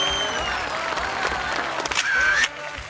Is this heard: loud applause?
yes